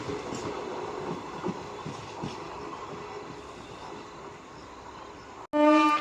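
A local passenger train rumbles along a railway line in the Rajkot–Veraval section, steady wheel noise with soft rhythmic clacks, ending in a sudden loud tonal blast close by.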